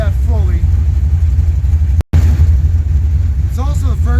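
A car engine idles with a steady low rumble, close by, running slightly low on coolant with the hood on. A brief talking voice comes in over it near the start and again near the end.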